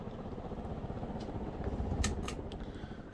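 Casablanca Delta II 50-inch ceiling fan running on high speed at about 200 RPM, giving a faint, steady whooshing hum with soft rhythmic air pulses and a few light clicks, no voices.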